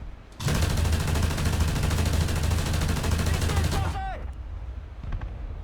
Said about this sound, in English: My machine gun says no, or autocannon says it's not.